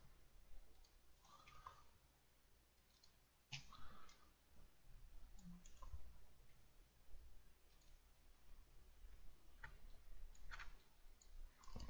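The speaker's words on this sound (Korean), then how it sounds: "제가 마우스를 잘못 클릭해서" Soft, sparse clicks of a computer mouse, spaced irregularly over a faint steady background hum.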